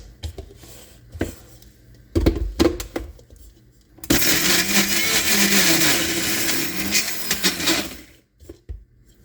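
Homemade peanut butter grinds in a blender: a few short knocks and clatters, then a loud sustained motor whir for about four seconds with a labouring, wavering pitch, dropping off into brief bumps.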